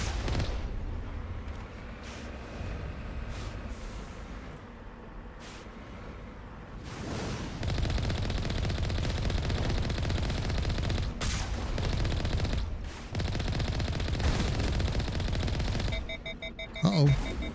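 Cannon fire in the Mass Effect video game: bursts of loud booming shots and rapid gunfire, with sharp impacts and dense battle noise, growing louder midway.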